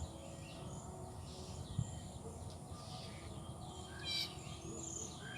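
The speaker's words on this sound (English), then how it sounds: "We've got beautiful bird song around us today." Faint birdsong and chirps drift through a quiet outdoor space, scattered calls over a steady low background hum.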